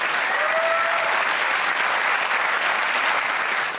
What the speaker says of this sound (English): Let's have a big round of applause for Matt Windle.